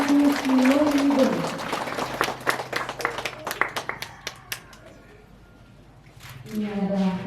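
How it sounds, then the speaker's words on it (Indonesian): Audience clapping at a Catholic thanksgiving mass in a church, a burst of hand claps that thins out and fades, with someone speaking over the start and again at the end. "Bapak Ibu kita tepuk tangan memeriahkan kepada Basis Lolindo."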